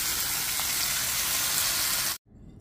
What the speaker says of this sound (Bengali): লাউটাকে এখন ভাজি করে ফেলছি।